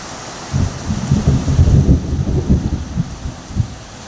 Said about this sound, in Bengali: হেভি বৃষ্টি দেখো